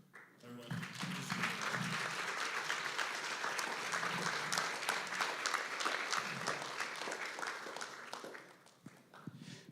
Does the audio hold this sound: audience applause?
yes